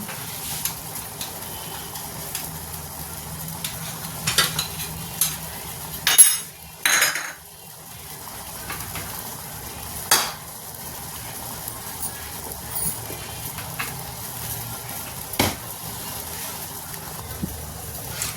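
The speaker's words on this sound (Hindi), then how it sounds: "ये मेरा खोया और मेवा रखा हुआ है, ये हम आटे में मिक्स कर लेते हैं" Khoya and dry fruits being mixed into flour in a pan: scattered metallic clinks and scrapes of a spoon against the pan, close, with brief louder clatters amid quiet stretches and no talking.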